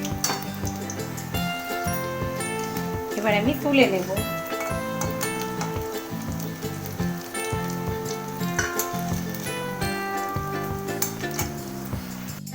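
Fritters of paneer and ridge gourd in batter sizzle steadily in hot oil, a continuous crackling hiss under background music, with someone speaking briefly.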